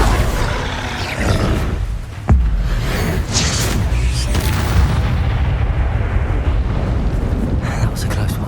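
In Hogwarts Legacy, Confringo spell blasts set off heavy booming explosions, one sharp hit followed by a sustained rumbling roar amid loud game action and voices.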